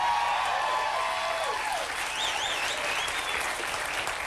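A television studio audience in New York applauds, sustained dense clapping at steady volume, with faint voices and whoops rising briefly through it.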